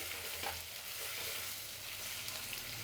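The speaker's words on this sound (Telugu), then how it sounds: "ఇది కొంచెం బాగా వేగాలండి." Ginger garlic paste fries in hot oil for chicken donne biryani, a steady, even sizzle that runs close throughout.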